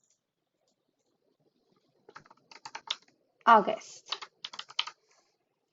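Computer keyboard keys tapped in short irregular bursts while a file name is entered in billing software, quiet and close, with a brief spoken word in the middle.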